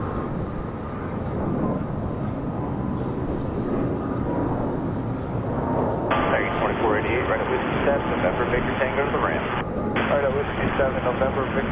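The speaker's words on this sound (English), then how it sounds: "nice early rotation for the A321." An A321 airliner lifts off early at Charlotte Douglas on a windy morning, its steady jet roar swelling midway, with radio chatter and talk running over it.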